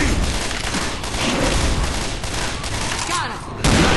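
Gunfire in the Left 4 Dead zombie shooter: dense, continuous rapid shots crackle close and loud throughout, with a heavier burst at the end, under brief shouted callouts from players.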